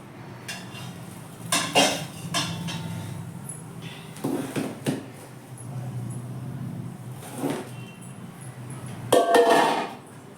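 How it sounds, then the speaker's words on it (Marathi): Metal clanks and knocks as a large cooking pot is set down on a home kitchen stove, with several sharp hits scattered across a quiet background, the loudest near the end. "तर मी ठेवते आता मोठ पातेले मोठ पातेलं ठेवून घेतलं"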